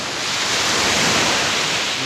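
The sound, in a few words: sea waves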